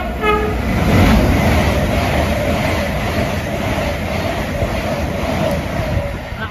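An LNER passenger train from Edinburgh Waverley to London King's Cross runs through Cramlington station without stopping, a loud, steady roar of wheels and rushing air that holds for several seconds and then fades slightly.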